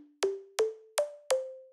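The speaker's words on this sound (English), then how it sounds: "a reverb unit, which sounds like this" Four plucky synth lead notes through a reverb unit in Reason, evenly spaced and slowly rising in pitch, each with a sharp attack and a short washy tail, alone and fairly quiet.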